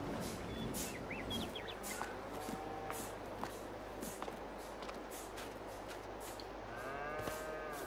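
Cattle mooing on a dairy farm in the Farming Simulator video game, with long, low calls repeating through the clip, joined by faint bird chirps and shuffling in the background.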